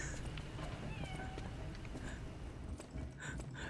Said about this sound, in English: That's a kitten!